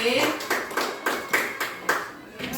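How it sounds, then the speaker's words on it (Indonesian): A classroom of students claps together in a rhythmic pattern, about six sharp, evenly spaced bursts of clapping close by, with voices faintly mixed in. "Tepuk tangan untuk kita."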